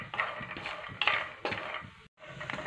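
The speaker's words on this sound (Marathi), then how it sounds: "आता एकसारखं हलवत शेंगदाणे भाजून घेऊ." Peanuts roast in a dry pan and are stirred, making a few bursts of rattling scrapes with short gaps between them, close and fairly quiet.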